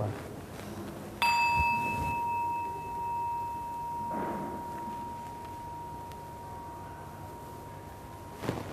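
A single bell is struck and its clear tone rings on, slowly fading over several seconds in a quiet room, with a soft knock near the end.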